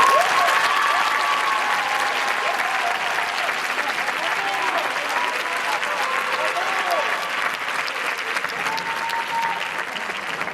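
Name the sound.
loud applause at a graduation ceremony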